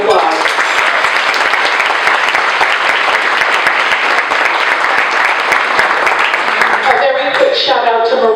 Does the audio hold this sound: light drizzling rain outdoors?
no